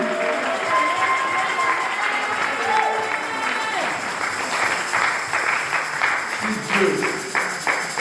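A church congregation applauds and cheers for Jesus in steady, sustained clapping that fills the room, with voices and faint tones mixed into the crowd noise throughout.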